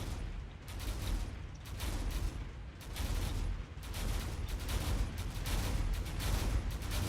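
Sustained bursts of gunfire from ships attacking a fortress in the space combat game Drone Wars, a dense rattling barrage in rolling waves with no speech.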